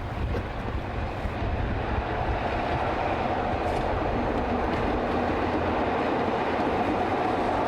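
A train at Butterley Station on the Midland Railway Centre heritage line rumbles steadily close by, with a constant low roar and faint rail clatter, and wind buffets the microphone.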